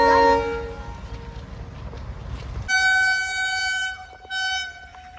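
A train horn blares in long sustained tones, first fading, then a second louder blast sounds close by over a low rumbling rail noise.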